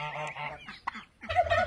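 A goose honks close by in a few short, nasal bursts separated by brief pauses, with one stronger honk at the end.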